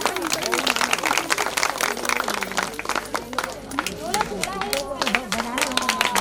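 Festive crowd at a Shri Krishna Janmashtami celebration in Ranikhet claps steadily throughout, a dense wash of hand claps mixed with crowd murmur and a voice speaking over it.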